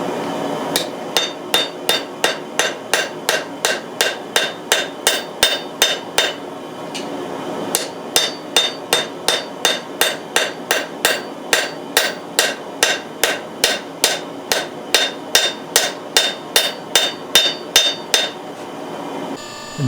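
Steady, rhythmic hammer blows ring out as a wrought iron san mai billet is forged on an anvil, dozens of sharp metallic strikes with one brief pause, loud and close.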